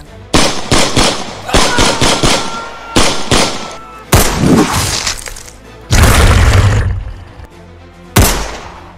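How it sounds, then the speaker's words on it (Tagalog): Bursts of gunfire in a horror-action story about soldiers fighting aswang, loud and close, arriving in rapid volleys with short pauses between, one long sustained barrage near the end, and no voices over the shots. "Habang nagpapaputok ng baril"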